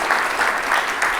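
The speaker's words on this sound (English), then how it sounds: "if we could give them a round of applause" Audience applause at an AI general meetup in Birmingham, a steady wash of many hands clapping together, fairly loud and close, with gentle swells through the short burst.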